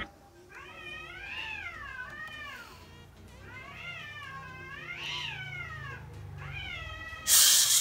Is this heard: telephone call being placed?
no